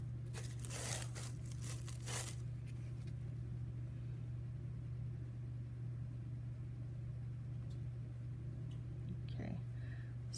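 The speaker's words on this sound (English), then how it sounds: "now you can take off your plastic." Plastic wrap is peeled off a clay pumpkin in a few quick crinkling, tearing bursts near the start, with a steady low hum underneath and faint talk.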